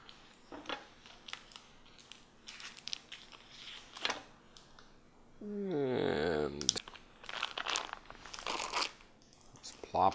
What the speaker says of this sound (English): now we're gonna take our block of cream cheese,